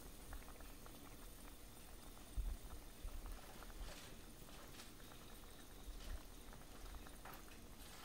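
Water simmers in a pan for an egg curry, giving a soft, continuous bubbling patter with occasional slightly louder pops, quiet and close, no voices.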